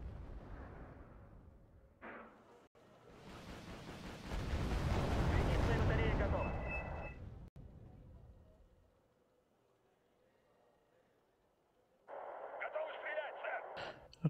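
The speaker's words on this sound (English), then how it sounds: "I think I will simply leave the artillery to do its job." In the Wargame AirLand Battle video game, artillery fire rumbles in a long, loud, booming swell that fades away, followed later by a burst of distant radio-like crackling.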